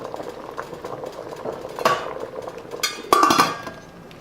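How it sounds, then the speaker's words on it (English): Split pea soup simmers gently in a pot with a soft bubbling hiss, broken by a couple of brief metallic clinks and scrapes from a utensil against the pot. "we're going to let it simmer slowly for a half hour to 45 minutes"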